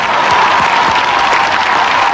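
A studio audience applauds on a Vietnamese TV game show, steady loud clapping filling the room with a faint hum underneath.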